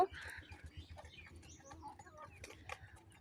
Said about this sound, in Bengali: এটা কিন্তু খুব ভালো লাগে যখন ছোট ছোট মুরগিগুলো বাঘ দেওয়ার চেষ্টা করে